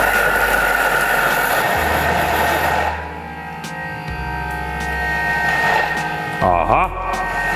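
A Thermomix whips cream for a gingerbread mousse, its motor a loud steady whirring hum that drops in pitch partway through, then rises again with a brief rattling surge near the end.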